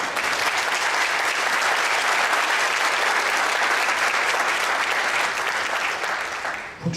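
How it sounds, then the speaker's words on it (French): Loud, sustained audience applause for two young soloists, a clarinettist and a saxophonist, at a wind band concert. The applause stays dense and even throughout, then eases off right at the end. "On peut déjà les applaudir."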